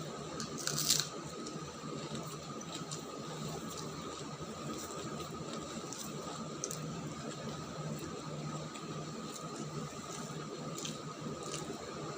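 Raw onion being bitten and chewed up close, soft wet crunches and squishy mastication repeating quietly throughout, with no talk.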